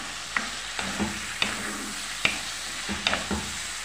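A spoon stirs chorba soup in a pot, heard as close, distinct scrapes and knocks every half second to second over a steady low simmering hiss, with no voices.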